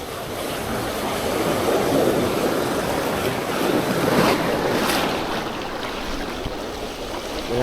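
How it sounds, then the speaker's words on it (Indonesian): Big ocean waves roll onto a beach in strong wind, a continuous heavy rushing surf with swelling crashes, buffeted by wind noise across the microphone. "Gelombangnya besar, ombaknya"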